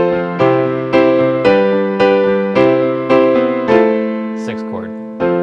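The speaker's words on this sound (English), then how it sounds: "That's the sound of the 6 chord." A rich, sustained minor six chord struck repeatedly in a steady rhythm, each attack ringing and decaying before the next.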